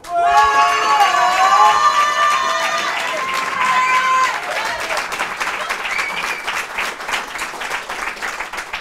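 Loud audience applause with some cheering in a French TV studio, starting over fading music and continuing as a dense wash of clapping.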